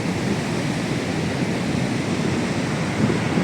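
Sea waves pound the laterite stone wall at Ganpatipule near the temple, making a steady, close, loud roar of surf and spray with no talking.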